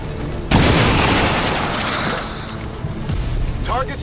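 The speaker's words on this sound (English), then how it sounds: "Let's blow some stuff up." Video game explosions burst out as a loud, sustained boom that rumbles and slowly fades, followed by a second thump and some crackling debris near the end.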